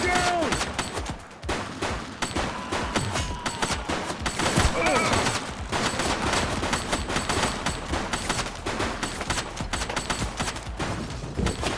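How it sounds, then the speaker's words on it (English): Gunshots during a police shootout in the video game The Precinct on PS5: rapid, loud volleys of automatic and pistol fire, close and sustained, with shouted voices mixed in. "Shots fired!"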